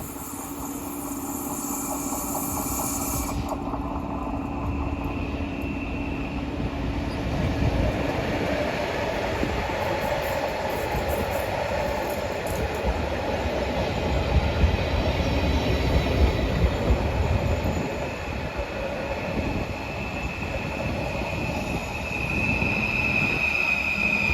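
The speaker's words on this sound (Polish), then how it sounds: "I za chwilkę będzie pociąg Intercity Karłowicz z Warszawy Wschodniej." Intercity Karłowicz train from Warszawa Wschodnia at Zakopane station, rolling in with a steady rumble and rattle of cars, wheel squeal rising midway, and a faint high tone fading in the first seconds.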